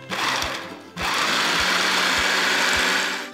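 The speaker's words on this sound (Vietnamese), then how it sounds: "Tiếp theo mình sẽ cho hỗn hợp tỏi, gừng và hành tây vào trong máy để mà mình xay nhuyễn." A kitchen blender whirs steadily as it purees garlic, ginger and onion for napa cabbage kimchi. It briefly dips and restarts, then runs loud and continuous with a rhythmic low thumping from the blades churning the mixture.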